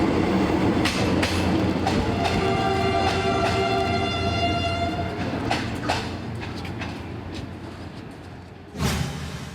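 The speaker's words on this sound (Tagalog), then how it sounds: "maibalik na ang regular na biyahe kang tren haling Metro Manila pasiring sa Bicol" A passenger train on the Metro Manila to Bicol railway line rolls along the tracks, with loud rumbling, rhythmic wheel clatter and tonal wheel squeal that fades slightly before a closing burst.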